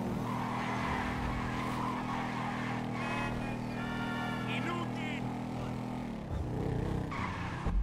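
Car engine droning steadily in a video game as the player drives around recklessly, with brief tire squeals and skidding, and a voice talking over it near the end.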